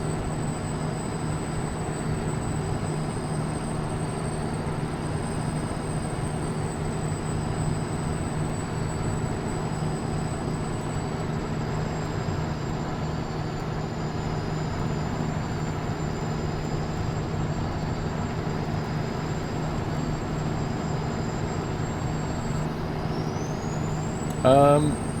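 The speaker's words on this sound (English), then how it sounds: "It's a Freightliner, is what the truck is." Freightliner truck engine in American Truck Simulator, a steady, even drone that holds unbroken throughout, with a thin high whine riding on top and no voices.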